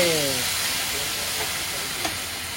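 Mustard paste goes into a hot pan of oil with potatoes and black cumin for mustard hilsa, giving a steady, fairly loud broadband hiss that holds evenly throughout, with a faint tap near the end.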